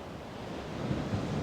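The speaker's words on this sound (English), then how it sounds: "Listen to these beautiful waves" Ocean waves washing in as a steady, soft rush of surf with some wind, gently swelling toward the end, with no talking.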